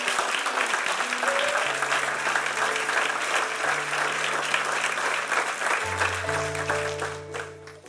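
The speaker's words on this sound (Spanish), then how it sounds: "Dale un aplauso al Señor." A church congregation claps together in a sustained burst of applause, with music holding steady notes underneath, fading out at the end.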